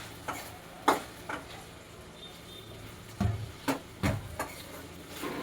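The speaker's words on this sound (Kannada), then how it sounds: "ಬೆಂಡೆಕಾಯಿನ ಚೆನ್ನಾಗಿ ಫ್ರೈ ಮಾಡ್ಕೊಳ್ತಾ ಇದ್ದೀನಿ" Okra frying in oil is stirred in a pan, with a spoon knocking and scraping against it in irregular taps, some spaced apart and a quicker group near the end, over a low steady background.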